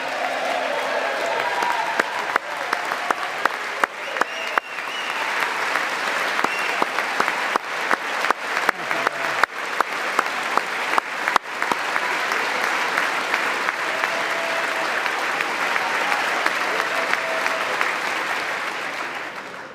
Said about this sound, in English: With the name Kennedy, you would have thought everybody over here would have been cheering.